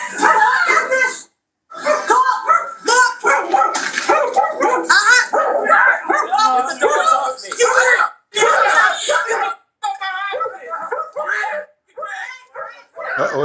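A dog barks and yips in short bursts close by inside a house during a heated confrontation, mixed in with overlapping talk and shouting.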